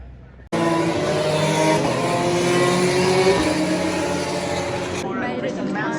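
Formula 1 cars on the formation lap at Monza, a loud steady engine drone that sets in sharply and holds for several seconds, with a rising pitch sweep in the middle and a wavering tail.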